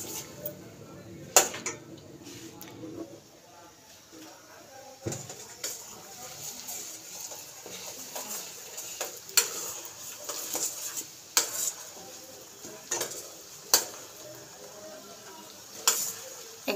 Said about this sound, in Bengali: এগুলো একটু ভালো করে নেড়ে চেড়ে নিচ্ছি মশলাগুলো